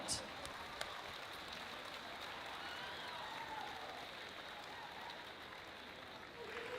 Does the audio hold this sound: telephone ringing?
no